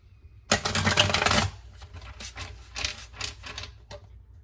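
A deck of cards is riffled quickly, a dense fluttering burst followed by several shorter, softer shuffles and taps, close and clear.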